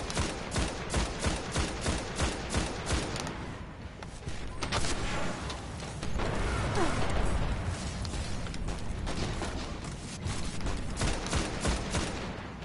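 Rapid gunfire in the Destiny video game, with a quick string of sharp shots followed by heavier sustained bursts and blasts that build in loudness, then more spaced shots near the end.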